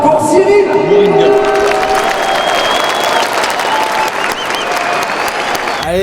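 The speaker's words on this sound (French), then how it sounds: "C'est un applaudissement pour Cyril." A big stadium crowd at the Stade de France applauds and cheers loudly for a runner, with whoops and whistles rising over continuous clapping.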